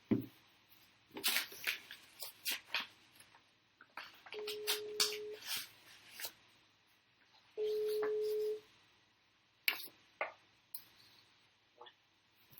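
Telephone being dialed to place a call during a conference, with short sustained dial tones and tapping handling noises, fairly faint with quiet room sounds around them.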